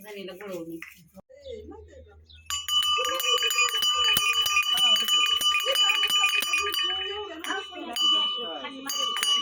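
Voices murmur, then an old metal bell on a bullock's neck starts clanging steadily and rhythmically, continuing for several seconds.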